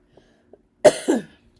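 A single cough close to the microphone, a harsh burst followed by a second rougher push, with quiet surroundings and faint small clicks.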